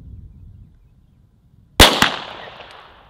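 A single sharp, loud crack from a Desert Eagle .50 pistol, fired outdoors, bursts out after near silence, then a second quick report and a fading ringing echo.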